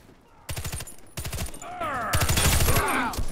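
Rapid bursts of automatic gunfire in the video game Warface rattle in quick succession, with sharp metallic clicks and whooshing effects layered between the volleys, loud and close.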